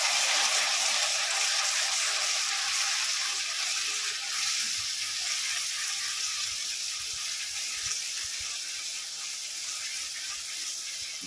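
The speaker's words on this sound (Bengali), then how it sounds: "ভালো করে কষিয়ে নেব মশলাটা।" Spice masala of red chilli, garam masala, ginger and garlic frying in a pan for matar paneer, giving a continuous close hiss and sizzle that fades slightly over eleven seconds, with no talk.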